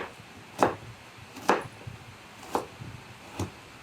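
Carrots being diced into small cubes with a knife on a cutting board, four distinct chops at a slow, even pace, close and alone.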